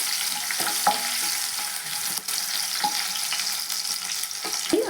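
Chillies and crushed garlic frying in a pan for buttermilk sambar: a continuous close hiss of hot oil with a few light pops and utensil taps scattered through, steady and fairly loud, no voices.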